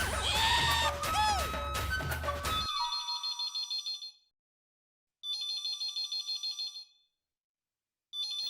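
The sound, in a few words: telephone ringtone ringing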